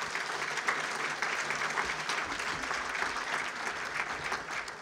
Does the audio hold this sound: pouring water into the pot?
no